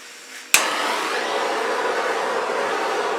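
A handheld torch flame fires with a sharp onset and then roars as a steady, close, broadband hiss across fluid acrylic paint, holding evenly to the end with no talking.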